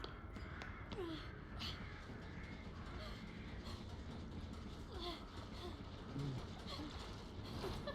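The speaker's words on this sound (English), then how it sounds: "I'm just hearing crows." Crows caw faintly in the distance several times over a constant low rumbling background.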